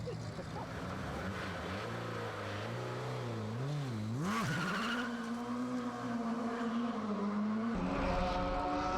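A German touring car (DTM) race car on track, its engine note rising and falling through gear changes and slides, with some tire squeal, heard steadily but at low level, no speech.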